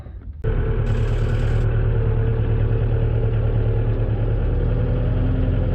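A snowblower engine on a rural off-grid building site starts abruptly and settles into a loud, close, steady rumbling idle with a rough mechanical clatter, continuing unbroken.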